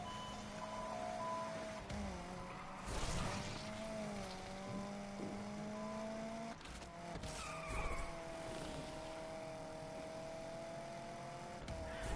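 A race car in the Need for Speed Unbound game during a long race: a steady engine drone that climbs and drops in pitch as the car shifts, with bursts of tire skid and squeal.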